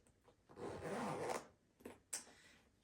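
A short zipper pull rasps open up close on the top zipper of a Tory Burch Zippy coin purse wallet, followed by a couple of small fabric rustles and clicks, quiet and brief.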